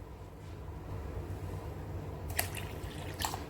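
Water poured into a mixer jar holding chatti pathiri batter with egg and salt gives a soft, steady close pour, with a couple of small clinks near the end.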